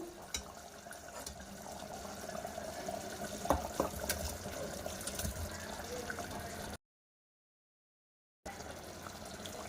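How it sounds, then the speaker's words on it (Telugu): Aloo dum masala curry simmering in a pot, a steady close bubbling and soft popping hiss with a few faint clicks, continuous and fairly quiet, then cutting off briefly before resuming. "ఇలా బాయిల్ అవుతుంది కదా"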